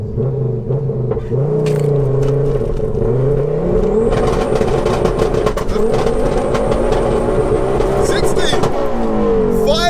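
A turbocharged, 530 bhp four-wheel-drive-swapped Ford Focus ST, run in front-wheel-drive mode, revs hard and accelerates through its gears, a loud droning roar with rising whine, people talking over it.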